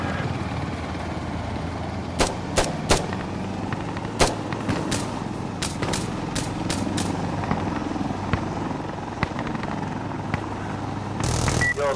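Helicopter in a video game drones steadily throughout, with sharp gunfire cracks scattered over it and a rushing burst near the end.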